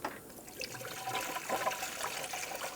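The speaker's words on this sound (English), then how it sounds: "I'm just going to put a funnel in here, that way I don't spill everywhere" Coolant pours and gurgles steadily through a funnel into the overflow tank of a 2012-2020 Ford Focus, a continuous close trickling splash that swells slightly midway.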